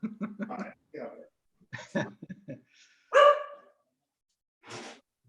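A pet dog barks loudly at close range in a few sharp bursts, breaking in among people talking over a remote meeting connection.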